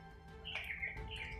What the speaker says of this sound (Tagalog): Ito may uwak na naman ito na palaging sumusunod sa amin.